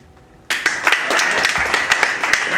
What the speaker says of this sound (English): Let me get a hand clap right here